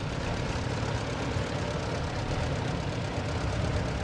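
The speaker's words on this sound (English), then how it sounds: "Here's a 1953 Ford Jubilee owned by Doug and Pat Tangborn from Guthrie," A 1953 Ford Jubilee (NAA) tractor engine idles at a farm show, a loud, steady low rumble with even, rapid chugging pulses throughout and no talk.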